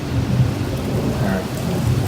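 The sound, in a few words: rain and thunder sound effects on studio tour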